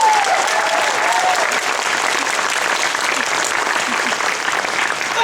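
Dense, loud audience applause at a national women's conference plenary session, continuous clapping from a large room sustained evenly throughout.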